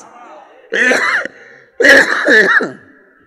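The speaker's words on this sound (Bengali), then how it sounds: "কাশি টাশি শুরু হয়েছে 21 সাল থেকে" A man coughs and clears his throat in two rough, harsh bursts separated by a short pause, loud and close, from a persistent cough that began during time spent in jail.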